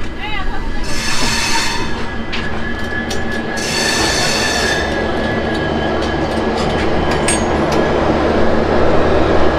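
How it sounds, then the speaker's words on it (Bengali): Hemkund Express train running out of Katra toward Udhampur on a mountain line, a loud continuous rail rumble with wheel clatter and bursts of high metallic squeal, close and steady throughout. "হেমকুণ্ড এক্সপ্রেস কাটরা ছেড়ে প্রথম স্টপেজ উধমপুর"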